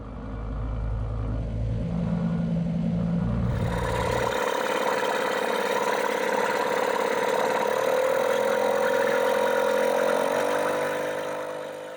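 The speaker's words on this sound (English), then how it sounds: "These small 2-strokes are very agricultural and noisy compared to the EFI 4-stroke" A small two-stroke auxiliary outboard boat engine starts up after a few seconds of low rumble, then runs at a steady, buzzy, rattling idle, close and loud, with a slight rise in pitch toward the end.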